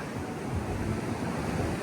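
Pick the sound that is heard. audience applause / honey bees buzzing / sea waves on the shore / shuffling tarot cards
sea waves on the shore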